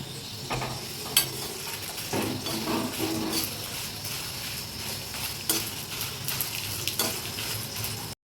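Two Guntur chillies fry in a pan with a continuous close sizzle, broken by scattered stirring scrapes and light clinks of a utensil against the pan.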